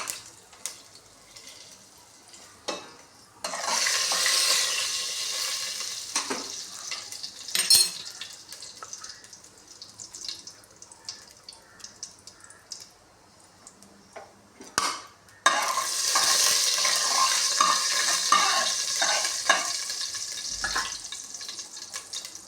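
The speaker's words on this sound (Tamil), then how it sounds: "கடுகு பொரிஞ்சிட்ருக்கு. கருகாத அளவுக்கு சீக்கிரம் நம்ம ஜீரகத்தை ஆட் பண்ணிடலாம்." Mustard seeds spluttering in hot oil with cumin stirred in, heard as bursts of crackling sizzle at the start and again later, broken by a quieter stretch with clinks of a spoon against the pan.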